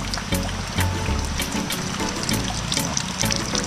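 Flood water draining through a disposal outlet in a washroom during heavy rain, a continuous rushing, splashing flow with no talk over it.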